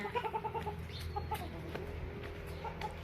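Chickens clucking in quick repeated bursts while being chased around a yard, nearby and moderately loud, with scattered scuffling noises between calls.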